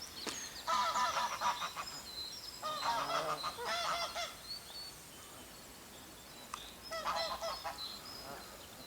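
Geese on a lake honk in loud clustered bursts as they squabble over nesting rights on an island, with quieter gaps between the noisy outbreaks.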